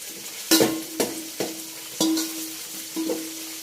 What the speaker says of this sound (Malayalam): അത് നല്ലോണം ഇളക്കി കൊടുക്കണം കേട്ടോ.